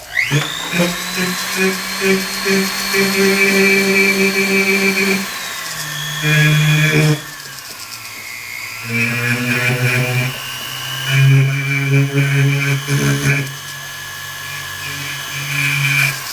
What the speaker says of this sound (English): I'm gonna go back in with my Timo tip and just smooth out the rest of it.